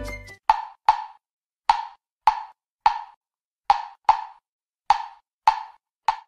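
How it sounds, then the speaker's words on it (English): A clave rhythm pattern is tapped out as sharp wooden clicks, a five-beat figure repeated twice, close and dry with nothing else behind it. "They all are composed around the 5-beat rhythm known as the clave,"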